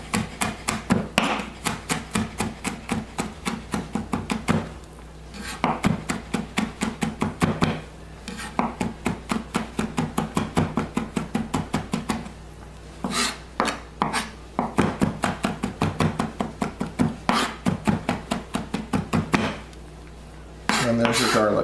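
Garlic being smashed and then minced with a knife on a board: rapid runs of sharp, rhythmic chopping taps in close bursts, pausing briefly between runs.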